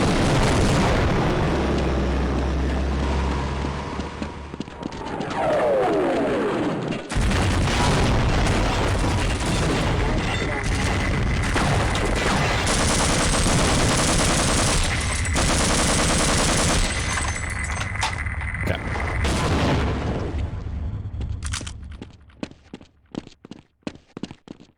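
Gunfire and explosions in the video game Half-Life, heavy booms and rattling bursts of shots packed together over about twenty seconds, loud and close, ending in scattered, sharper hits as the noise thins out.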